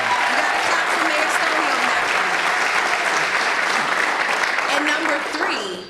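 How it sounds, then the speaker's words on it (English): Steady applause from an audience at a Mayorathon policy event fills the whole stretch, dense and even, for Mayor Stoney, then tapers off at the very end. "You gotta clap for Mayor"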